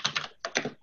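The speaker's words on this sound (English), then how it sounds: "Sorry, my typing is loud." Close, crisp keystrokes on a computer keyboard: a quick run of clicks, a brief pause, then another short burst.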